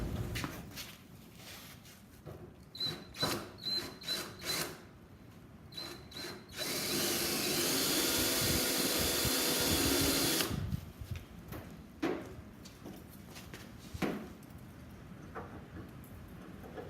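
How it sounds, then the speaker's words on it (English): A power tool cuts 8-32 threaded rod studs for a rear spoiler, starting with short whirring bursts, then a steady loud grinding whine for about four seconds, followed by clicks and handling noises, close by. "I just finished cutting a bunch of these studs that are going to go into the spoilers"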